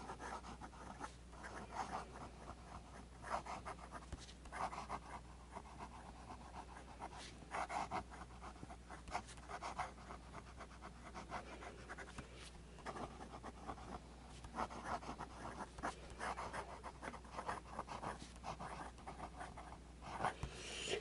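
A fine-nib fountain pen scratches steadily across paper in a run of quiet, close strokes, writing a few S's with fairly wet ink flow, no talking.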